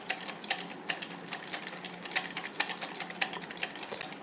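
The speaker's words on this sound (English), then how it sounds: "And we will whisk this now." A whisk clatters briskly against a bowl of thick hung-curd chicken tikka marinade, a fast, steady run of close, rattling strokes with no voices over it.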